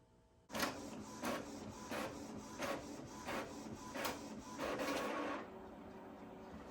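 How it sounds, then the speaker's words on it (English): An Epson ET2800 inkjet printer prints onto sublimation paper after a quiet start, its print head sweeping back and forth in about seven evenly spaced passes, close and alone. "we're gonna print this on our sublimation paper"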